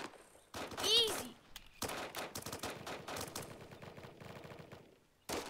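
Rapid automatic gunfire bursts in the video game BRM5, dense and sustained with brief pauses, mixed under voices talking over the action.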